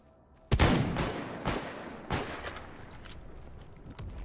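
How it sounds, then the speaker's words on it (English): Gunfire in the video game S.T.A.L.K.E.R. GAMMA: a sharp close shot followed by several more spaced reports at irregular intervals, each with a short rumbling tail. "No, he was shooting at the flesh."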